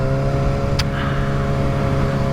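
A Kawasaki ZX6R motorcycle rides into Sheffield city centre, its engine a steady, close drone with a constant tonal hum throughout and a brief sharp whoosh partway through.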